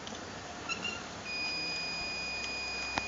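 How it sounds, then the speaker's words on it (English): An electronic beep from a Segway-like self-balancing scooter as it reaches balance: a steady tonal tone that comes in and sustains, faint and thin over quiet background noise. "And also, when the Segway is balanced, we have another beep."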